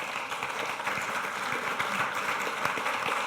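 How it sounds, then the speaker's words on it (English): Audience applause after a shared-economy panel event, a room of people clapping steadily and moderately loud for the whole moment, with no one speaking over it. "if we can give another round of applause"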